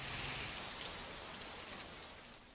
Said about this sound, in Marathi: मुंबई, पुणे, रायगड, नाशिक या सगळ्या ठिकाणी पाऊस जोरदार कोसळतो आहे